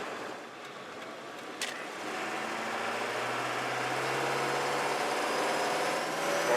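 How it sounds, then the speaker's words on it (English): A Ford F-series truck engine with an aftermarket intake mod revs up from a low hum into a steady, rising rumble, with a faint turbo whine and air-rush noise building near the end. "I hear a little bit of air sucking before the turbo whine kicks in and right after."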